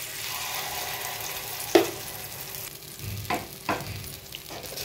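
Lentil appe batter sizzles softly in an appe pan over a low flame with a steady quiet hiss, broken by a few light clicks and taps from the pan.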